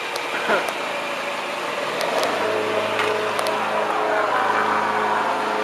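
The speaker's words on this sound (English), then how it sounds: "I'm gonna cool my engine down." A 1993 Cadillac Fleetwood idles steadily close by, its low, even engine hum running unbroken under background noise and some voices.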